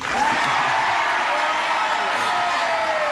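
A 1984 game-show studio audience gives sustained, dense applause with a few whoops and cheers, steady and loud throughout.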